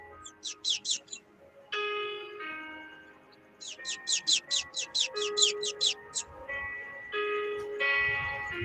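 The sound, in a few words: bird chirping nearby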